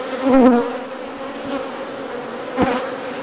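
Varroa-resistant honeybees buzz on the comb, a close, steady droning hum with a louder swell near the start and another brief burst toward the end.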